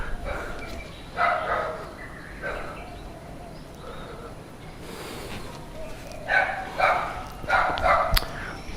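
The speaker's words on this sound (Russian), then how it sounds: "Ну и собаки, как обычно." Dogs bark in a quiet Balinese neighborhood during Nyepi, the Balinese New Year. Short bursts of barking sound from a moderate distance, first a pair, then a quick run of several barks, over a faint outdoor background.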